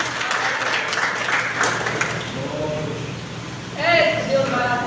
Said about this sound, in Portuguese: As palmas que engrandecem o nome do Senhor Jesus.